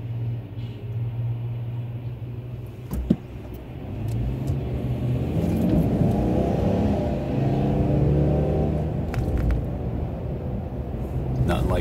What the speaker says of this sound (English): Nothing like being stuck behind a bus.